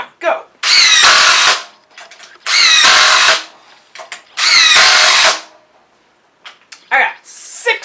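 A DeWalt XR cordless drill in a timed speed test gives three loud, close, whining bursts of a couple of seconds each, separated by short pauses and brief clicks.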